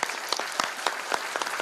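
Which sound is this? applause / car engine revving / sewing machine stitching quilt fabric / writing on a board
applause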